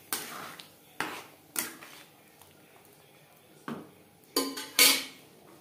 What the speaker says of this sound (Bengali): ঘুগনির সাথে গরম মশলা পাউডার বেশ ভালো করে মিক্সড করে দেব।